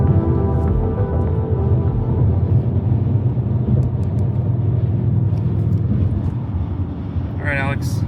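A BMW E39 M3 cruises on a highway during a long road trip, its steady engine drone and road rumble continuous and close from inside the cabin, with a brief higher whine near the end.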